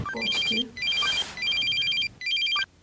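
A telephone ringtone chimes loudly in repeated electronic bursts with short gaps between them, close and clear with no talking over it.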